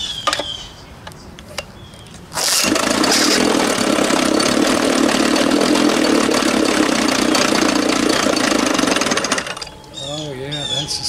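A 1987 Johnson 6 hp outboard motor starts up and runs loud and close with a steady rattling roar for about seven seconds, then cuts off, with someone talking briefly before and after.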